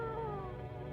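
Cat in the video game Human or not? giving a drawn-out, wavering meow that bends downward, close and fairly quiet over a low background hum, with no speech.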